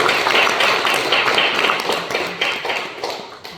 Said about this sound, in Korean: 우리 하나님 앞에 영광의 박수 올려주십시오